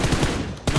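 Rapid gunfire in a video game shootout set in a snowy village, a quick burst of close, loud shots followed by another after a brief gap.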